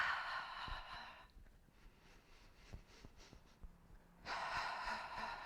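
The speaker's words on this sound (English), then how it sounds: "Few deep breaths." Slow, deep breaths during a spine mobility stretching routine, with a long, airy exhale at the start and another at the end, and quieter, softer breathing in the middle, close and alone with no talking.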